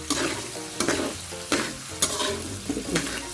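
Pork sizzles in a hot wok while a spatula scrapes and tosses it in quick, repeated strokes, close up.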